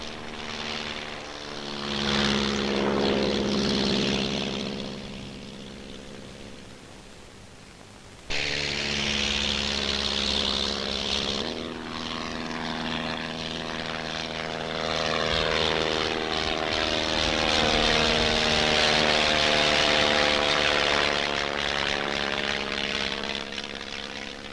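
Fixed-wing aircraft at an Indian Air Force pilot training academy, its engine roaring steadily and loudly as it takes off, with a sharp rise in level partway through and a sustained engine drone to the end.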